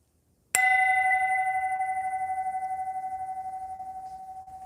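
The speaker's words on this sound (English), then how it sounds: "when I ring this bell" A meditation bell is struck once, close and clear, during a group meditation. Its bright ringing tone sustains and slowly decays with a gentle beating shimmer, alone in a quiet room.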